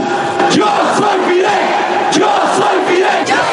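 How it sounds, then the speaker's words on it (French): A crowd of students in front of the university in Havana chants a revolutionary slogan in unison, loud and close, with rhythmic voices swelling together and no break in the massed shouting. "Un silence brisé par une foule d'étudiants au son de Viva la Révolution"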